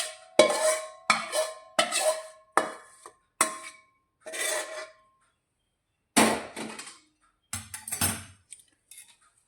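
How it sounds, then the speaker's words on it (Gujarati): Hot jaggery being mixed with edible gum and coconut for gund pak, heard as a series of close, separate scraping and clinking strokes of a utensil against the pan, with quiet pauses between them and no talk. "તો હવે ગોળ અને ગુંદ કોપરાના મિક્સરને આપણે આ રીતે મિક્સ કરવાનું છે"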